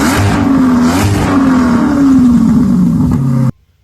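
A C8 Corvette fitted with a center-exit exhaust revs hard and close, a loud, steady engine roar that rises and falls for a few seconds before cutting off abruptly.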